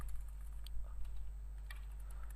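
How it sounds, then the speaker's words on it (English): Faint, sparse clicks of keys being typed on a computer keyboard over a steady low electrical hum, with no voices. "so I'm just typing here the"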